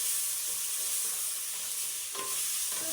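Garlic, onion and tomatoes sizzle and cook down in a pan for a minced meat dish, a constant bright frying hiss with a faint stir or scrape partway through.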